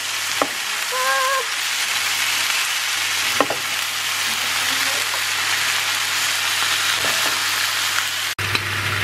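Beef stew with tomatoes just added, frying in a pan that is too small, giving a continuous dense hiss, with a few faint spatula scrapes and a sharp knock near the end.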